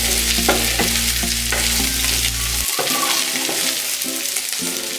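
Onion and capsicum sizzling in a pan for chilli chicken, with repeated stirring scrapes over a steady loud frying hiss.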